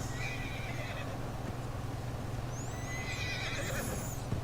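Horse whinnying and neighing in the Red Dead Redemption 2 video game, with high whinnies at the start and again near the end over a steady low game background hum; hoofbeats are indistinct.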